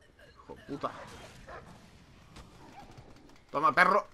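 Hound attacking in the stealth video game Dishonored, with harsh harmonic snarls and barks in short bursts, one near the start and a louder close cluster at the end, over a low game backdrop and some voice.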